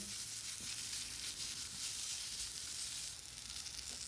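Tomato, turmeric, chilli and coriander powders, garam masala, pepper and garlic-ginger paste fry in a pan, giving a soft, steady sizzle that holds faintly throughout with little stirring.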